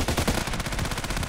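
Rapid automatic gunfire from the online shooter game Contract Wars, a dense, loud burst of evenly spaced shots with no pause.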